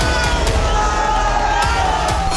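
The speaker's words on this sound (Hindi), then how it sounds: "ये नारेबाजी और जो हुटिंग यहाँ पर हो रही है वो रुकने का नाम नहीं ले रही है।" A dense protest crowd outdoors chants slogans and hoots continuously, loud and close, with rhythmic shouting over a steady roar of many voices.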